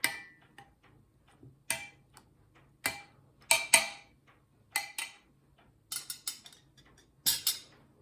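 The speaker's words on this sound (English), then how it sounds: "Give it a stir." Spoon stirring a pot of chamomile spearmint tea: a series of sharp, clinking taps against the pot, spaced irregularly and moderately close, with brief quiet gaps between strokes and no talking.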